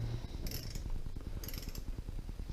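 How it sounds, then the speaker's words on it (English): Torque wrench tightening the head bolts on a VIAR 480C air compressor, with a steady run of fast, close ratcheting clicks and a few brighter metallic scrapes, no speech. "when you torque, it's even tension across all 4 bolts"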